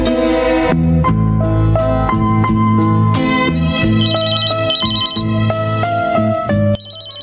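A mobile phone ringtone plays loudly and close for a call, a rhythmic melodic pattern of bright repeated electronic notes over a steady bass line, continuing for several seconds alone without voices.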